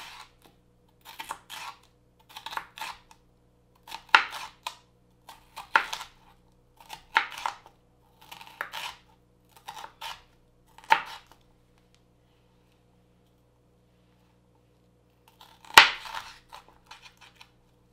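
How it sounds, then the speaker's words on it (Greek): A knife slices colourful bell peppers on a cutting board in bursts of quick, crisp cuts, close and distinct with short silences between, ending in a louder chop and a few more slices. "Κόβουμε σε φέτες τις πολύχρωμες πιπεριές"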